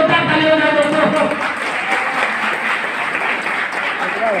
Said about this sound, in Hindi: चलो सबके लिए जोरदार ताली हो जाए दोस्तों